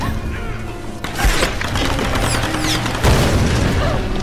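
Gunfire in the video game Tomb Raider: dense bursts of rapid automatic shots with heavy booms and crashes, loud and continuous, with two sharp surges of impact.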